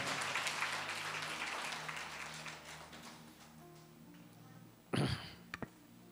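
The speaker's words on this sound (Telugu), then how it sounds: "అందరు గట్టిగా చప్పట్లు కొడుతూ దేవుని మహిమపరుద్దాం" A church congregation claps together during a Sunday worship service, a dense roomy patter of many hands that thins out, followed by a few loud close thumps and taps near the end.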